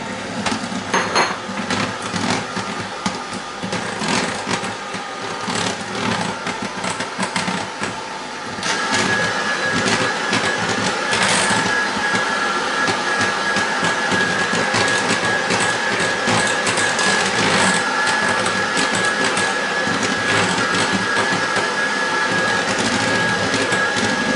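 An electric mixer churns cherry cake batter with milk, baking powder and flour, giving a steady whirring drone with rattling and scraping against the bowl, which grows louder and more even partway through.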